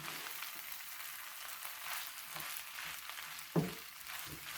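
Rice noodles with fish balls, garlic and lemongrass stir-fried in a pan, a steady soft sizzle running throughout with a single sharper scrape of the utensil near the end.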